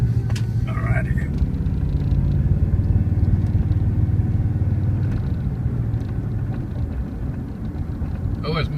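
A truck driving on the road after making a U-turn, heard as a steady, loud low engine and road rumble throughout, with a few faint higher noises at the start and end.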